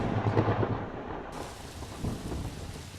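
Thunder and rain from a lightning strike in the video game Songbringer, a loud low crash early on that rolls into steady hissing rain, with a second swell of rumble near the end.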